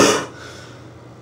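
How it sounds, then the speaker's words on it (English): A single short, sharp cough from a man, close and loud, fading quickly into quiet room noise. "Just be able to hear me cough."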